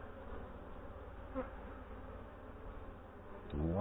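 Honey bees hum steadily on a hive frame of nectar and bee bread in an active colony, a continuous close buzzing with a brief louder burst and rustling near the end.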